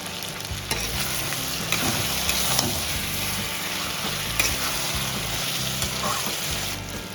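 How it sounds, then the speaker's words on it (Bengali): Rui fish curry sautéing with cumin and chili powder, a loud, continuous frying sizzle with a few stirring knocks against the pan, close and without talk. "3 চামচের মতন জিরের গুঁড়ো দিলাম, দিয়ে একটু কষিয়ে নেব।"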